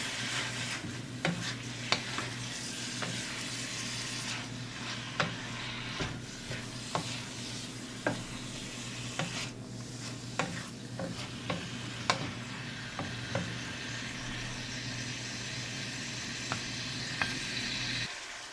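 Sliced beef is stirred in a hot pan for rice noodle soup, a continuous sizzle and frying hiss broken by frequent sharp scrapes and clicks of the utensil against the pan.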